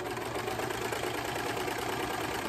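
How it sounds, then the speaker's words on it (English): A serger runs continuously at steady speed while stitching a serged edge along the waistband of pajama bottoms, giving a dense, even mechanical whir and rapid chatter with no pauses or talking. "We just want to run a nice serged edge along the waistband of these pants."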